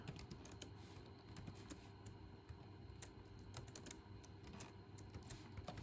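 Steady, faint typing on a computer keyboard, with quick irregular key clicks continuing throughout and no voices.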